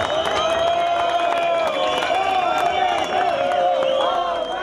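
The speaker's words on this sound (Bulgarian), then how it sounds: "площада избухна в аплодисменти и отново заскандира "Победа"" A crowd at a Boyko Borisov political rally on a town square in Parvomay breaks into sustained applause, cheering and chanting, forming a dense, continuous roar with tonal voices mixed through it.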